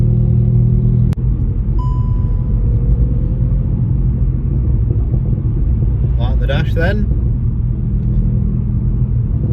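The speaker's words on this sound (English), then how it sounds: "annoy some passers-by with how loud this car is" A loud, deep engine of a Stage 3 tuned 1.8 TSI SEAT Ibiza Cupra with an IS38 turbo rumbles steadily from inside the moving car, with a sharp click early on and a brief spoken remark partway through.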